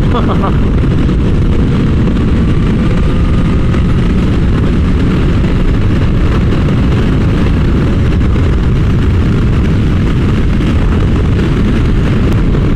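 A flashed Kawasaki H2 motorcycle under hard acceleration, its engine roaring loud and close with a dense, continuous blast amid heavy wind rush throughout.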